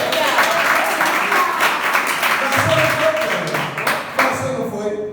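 A church congregation applauding steadily, the clapping dense and fairly loud before tapering off toward the end.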